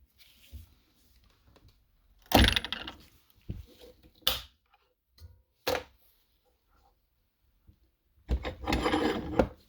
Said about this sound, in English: I'm going to file the little pieces of celluloid until they're the right size